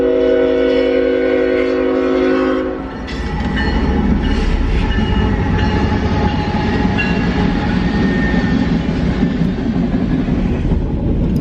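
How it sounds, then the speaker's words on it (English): A train rumbles past close by, loud and continuous, with a horn blast at the start followed by steady clattering of wheels on the rails. "Is this a train coming? It sure is."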